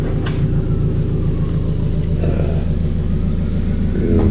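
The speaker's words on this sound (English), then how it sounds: "Some loud car going by." A loud car rumbles past on a town street in warm weather, its deep engine drone steady and close throughout with a slight swell near the end; no voices.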